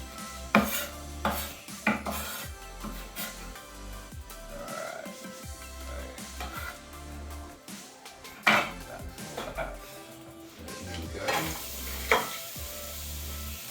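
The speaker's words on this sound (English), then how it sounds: "Lovely sizzle" Pad kra pao sizzles in a hot pan while utensils scrape and clink against it, with occasional knocks, close and moderately loud.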